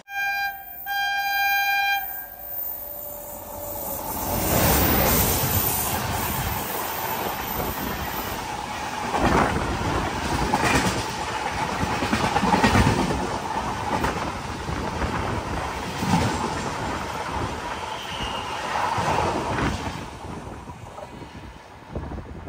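A passenger express train on the Konkan route rolls into a railway station, a broad, steady rumble of wheels and carriages with wind buffeting the microphone throughout, fairly close and continuous with no talk.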